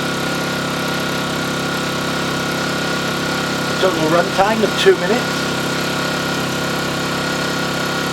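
Honda-style HY1000Si inverter generator engine running steadily, its drone stepping up toward 5000 RPM with eco mode off; a continuous hum sits under a man's speech throughout, with a brief louder rise midway.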